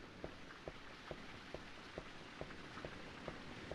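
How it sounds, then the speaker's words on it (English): Constant rain hiss fills the game Castlevania: Legacy of Darkness, with a regular pattern of soft thuds pulsing beneath the downpour at a steady, moderate level. "Oh, the rain will come shortly."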